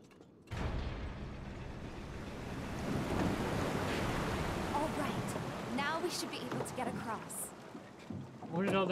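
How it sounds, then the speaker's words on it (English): Water rushes loudly through sewers in Final Fantasy 7 Remake, a broad steady roar that starts abruptly and keeps building, with mechanical clanks and brief game voice sounds layered over it later. "Where did all that water just come from?"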